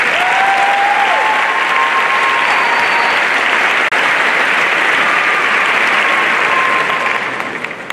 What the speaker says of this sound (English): So let's give ourselves a round of applause for that.